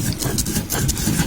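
Mango chutney bhorta paste with salt is ground by hand on a grinding stone, making a close, rhythmic rubbing and scraping of stone against stone that repeats in short strokes.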